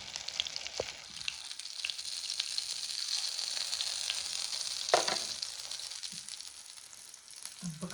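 Potato cutlets sizzle and crackle in hot oil with a continuous hiss, joined by occasional light clinks and stirring taps from a utensil.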